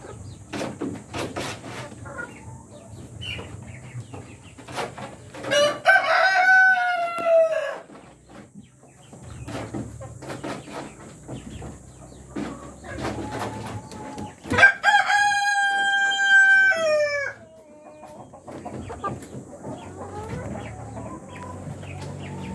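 A rooster in a breeder cage crows twice, loud and close, each call a long rising-then-falling cry, with clucking and other farm fowl sounds between.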